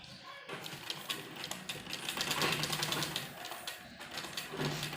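Sewing machine running steadily while stitching a decorative sleeve with loops, a continuous mechanical whir close by, with faint talk over it.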